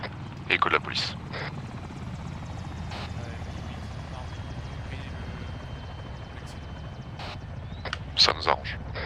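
A video game helicopter drones steadily in the background with a low rotor rumble, while players talk over it with short bursts of speech and clicks.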